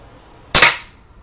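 An air gun fires a single sharp, loud shot at a shooting range, a crisp crack with a short fading tail over quiet background.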